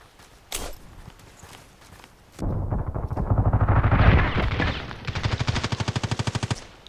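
Automatic gunfire in the shooter game Contract Wars rattles in long, loud, evenly spaced bursts after a single sharp shot, the rounds pounding close with a heavy low thump.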